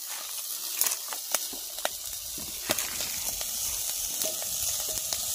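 Spices crackle in hot boiling oil for tempering: a steady close sizzle with frequent sharp pops and spits scattered throughout.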